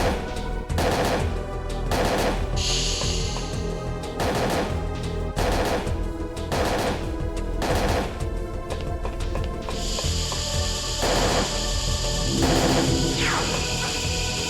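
Gunfire from the Parasite Eve II video game, a rapid series of loud repeated shots in a steady rhythm, with game music and effects running underneath.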